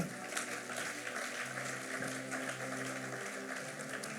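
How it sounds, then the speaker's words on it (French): A church congregation claps and cheers during a sermon, a dense, continuous wash of applause and acclamation at moderate distance, with voices mixed in. "Quelqu'un ici acclame Jésus."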